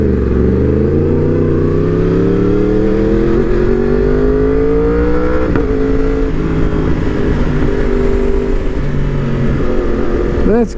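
A cruiser motorcycle rumbles past at a Thursday bike night at Ace Cafe in Orlando, its loud, close engine drone rising in pitch as it nears, then dropping and fading as it rolls away over steady background noise.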